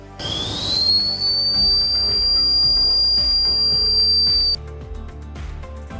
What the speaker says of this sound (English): the warning whistle sounds an alert to notify users